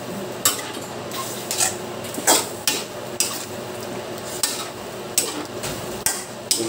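Chicken halang halang being stirred in a pot: a spoon knocks and scrapes against the metal in a regular rhythm of sharp clinks about every half second, close and clear over a soft simmer.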